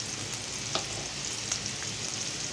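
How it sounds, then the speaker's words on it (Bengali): Onion frying in oil in a pan gives a steady, close sizzle, with a few sharper crackles and faint stirring clicks scattered through it. "পেঁয়াজটা একটু ভাজা হোক"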